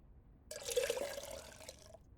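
Tea flows from a fresh pot into a cup in a quiet room, a soft trickling pour that starts suddenly, runs steadily for about a second and a half with a faintly rising filling note, then stops.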